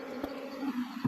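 A close, steady buzz of honeybees at a honey harvest, with a few soft bumps and shifts in pitch as the insects move around.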